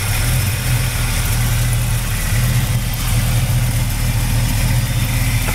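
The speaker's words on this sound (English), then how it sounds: "powered by a great running 350 four barrel with headers" A 1964 Chevy Chevelle with a 350 four-barrel engine, headers and an Edelbrock intake and carburetor idles steadily and loudly up close, with a deep rumble and no talking.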